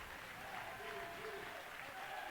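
Steady, dense applause from a basketball crowd at a women's college game, celebrating a player's 1,000th career point; a continuous roar of clapping that holds evenly throughout.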